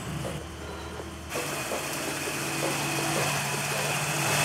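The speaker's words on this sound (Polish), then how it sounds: "Poczekam, aż się silnik rozgrzeje i przystąpimy do jazdy próbnej." A car engine, an old American classic, idles steadily as it warms up after a spark plug job, a continuous close mechanical hum with no one speaking.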